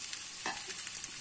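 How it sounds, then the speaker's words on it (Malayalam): Mustard seeds crackle and pop in hot oil in a pan while tempering for a Kerala dish, sparse quick snaps over a steady soft sizzle, close and fairly quiet. "നമ്മുടെ കടുക് പൊട്ടി"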